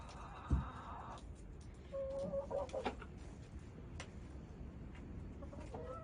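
Backyard chickens give soft, scattered clucks and short calls in an enclosed coop, moderately near, over a low steady background hum, with no talking.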